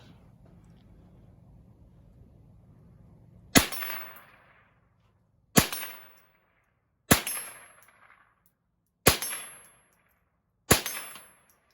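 Five sharp rifle shots from a Ruger fired one at a time at a range, each a loud crack with a short ringing decay, spaced about two seconds apart after a quiet stretch.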